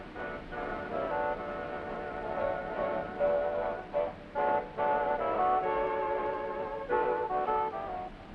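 A weak, tinny portable radio with poor reception, far from its station, plays thin, band-limited music with steady tones that briefly drop out several times.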